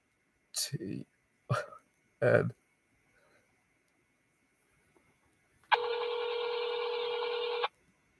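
A touch-tone phone dials a 1-800 number: three short DTMF beeps spaced about a second apart, then after a pause a longer sustained tone. The beeps are close and clear in a quiet room, with faint speech.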